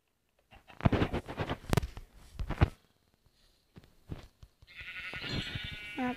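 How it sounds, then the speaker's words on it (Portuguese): Sheep bleat in a video game, with several short nasal cries and soft thuds near the start, then a longer wavering bleat at the end, all fairly close and without talk. "Matar aqui umas ovelhas,"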